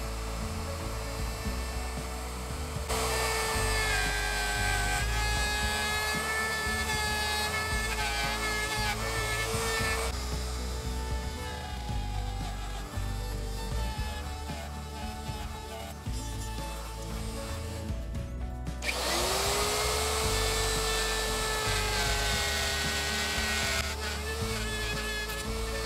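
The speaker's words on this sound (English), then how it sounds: "I could just take my router and run and just cut a little groove through" A router cuts a groove through wooden boards, its high, steady whine loud and close, dipping and surging in pitch as it bites into the wood between short pauses.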